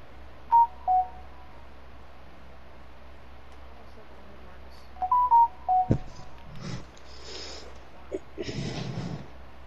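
In the NBA 2K20 video game, short bursts of phone keypad tones tap in a password, a pair near the start and a longer run of beeps later, with speech and breathing sounds following.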